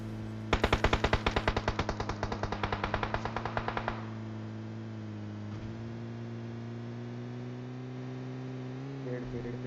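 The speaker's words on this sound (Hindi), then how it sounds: "खैर आखिरकार जाके वो बंदा भी गोलियां चलाता है।" Automatic gunfire in PUBG Mobile: a rapid burst of about twenty evenly spaced shots lasting a few seconds, then a steady engine-like hum continues alone.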